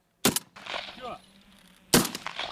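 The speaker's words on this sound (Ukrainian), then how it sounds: "Їх артилерист має збити за чотири постріли з помпової рушниці." Two sharp, loud blasts from a pump-action shotgun fired at pink balloons carried on a drone, spaced well over a second apart, with a rustling and mechanical clack between them.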